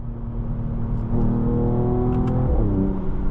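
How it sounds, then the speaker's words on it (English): A 2022 Mercedes-AMG GT 43 exhaust revving up under steady driving, a loud close engine drone that climbs in pitch and then drops as it shifts, with no voices. "I love that exhaust."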